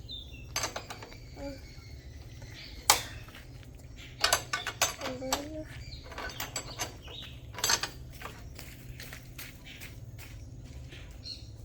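Metal tools clink and ratchet while bolts on the exhaust system of a Yamaha RXZ motorcycle are loosened, giving scattered sharp clicks and clanks of varying loudness against a quiet background, with a voice talking at times.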